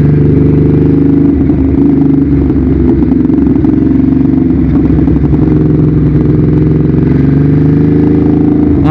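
A Ducati Hyperstrada 821 motorcycle engine drones loud and close while riding through a corner on a Balik Pulau road, a steady mid-pitched roar with slight rises in revs and constant wind rush.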